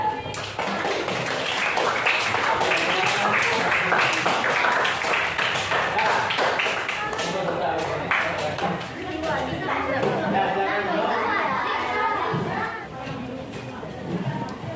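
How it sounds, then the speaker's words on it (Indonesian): Students in a classroom give a round of applause, with many quick hand claps at close range. Chatter and a teacher's voice continue over the clapping throughout. "Ya, tepuk tangan"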